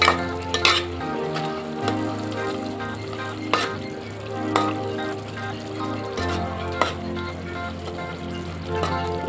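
Spinach fries in a pan with chili powder, a steady bubbling sizzle running throughout with occasional sharp stirring clicks and scrapes against the metal, close and moderately loud.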